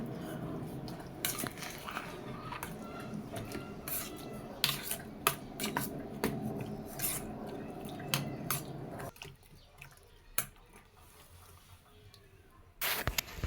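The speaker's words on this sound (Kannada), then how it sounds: "ಅದಕ್ಕೆ ಒಂದು ಸ್ವಲ್ಪ ನೀರು ಹಾಕ್ಬಿಟ್ಟು ಮಿಕ್ಸ್ ಮಾಡ್ಕೊತಾ ಇದ್ದೀನಿ" A spoon scrapes and clinks against a pot while stirring a thick millet dough mixture with added water for mudde, producing soft squishy stirs and scattered sharp knocks, faint and close, with no talking.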